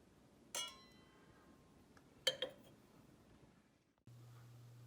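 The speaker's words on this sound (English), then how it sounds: "it's more fun to clink the glass for a toast" Wine glasses meet in a toast, a bright ringing clink followed by a second sharper double clink that fades, close and alone in a quiet room.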